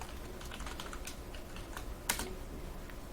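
Typing on a computer keyboard, a soft continuous patter of key clicks at a quiet, close level, with one slightly louder keystroke partway through and no talking.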